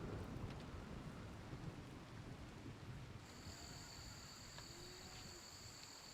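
Steady broadband rain hiss from the colony-building video game RimWorld, quiet and continuous, with a faint high insect-like whine entering midway.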